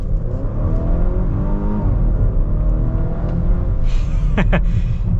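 The B6 engine of a 2022 Volvo XC60 R-Design pulls away, with a steady low rumble and rising drone heard from inside the cabin, loud and continuous, with a couple of faint clicks near the end.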